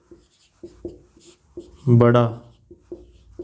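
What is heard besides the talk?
writing on the board during a maths lesson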